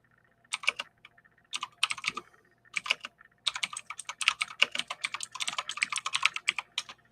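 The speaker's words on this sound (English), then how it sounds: "And I'm going to write that down in the comments." Someone types a comment on a computer keyboard, with close, crisp key clicks in short bursts at first and then a longer, quicker run of steady typing with no talk.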